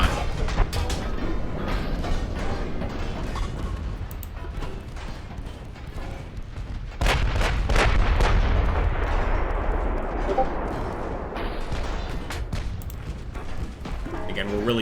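Naval artillery fire in the Ultimate Admiral Dreadnoughts video game: repeated booming gun blasts and rumbling impacts over a steady mechanical din, with a heavier surge of firing midway, while someone talks over it.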